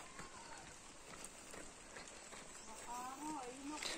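Steady rain patters on the ground, a soft continuous hiss with people talking over it.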